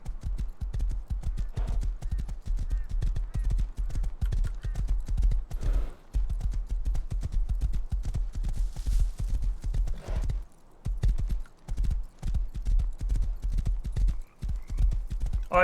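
Horse galloping in the Rust video game, with rapid rhythmic clip-clop hoofbeats close and loud, briefly pausing a few times before resuming, with faint whinnies.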